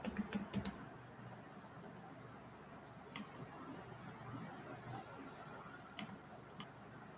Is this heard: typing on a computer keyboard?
yes